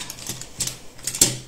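A bone folder scores creases into paper for a handmade scrapbook card, giving a few soft, brief scraping strokes spaced about half a second apart, close and quiet with no talking.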